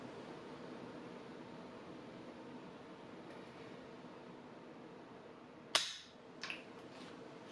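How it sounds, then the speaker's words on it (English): A dry-fire trigger pull on a handgun measured with a Wheeler Professional digital trigger gauge gives one sharp, loud mechanical click, followed shortly by a couple of fainter clicks against steady low background hiss. "let me go ahead and just pull the trigger."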